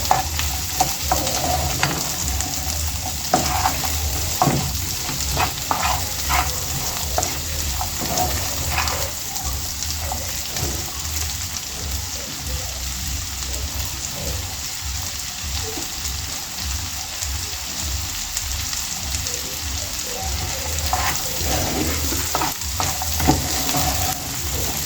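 Vegetables seasoned with black pepper sizzle and fry steadily in a hot pan, with repeated stirring scrapes and clinks over a continuous crackling hiss, fairly close and with no talking.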